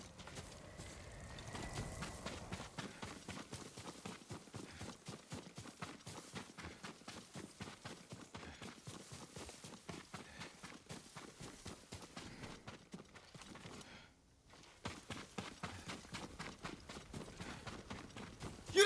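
Horse hooves clip-clop steadily in Ghost of Tsushima as a rider's mount moves at a quick gait, the regular close impacts running throughout with a brief pause near the end before resuming.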